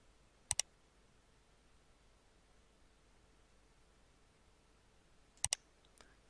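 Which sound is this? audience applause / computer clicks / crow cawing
computer clicks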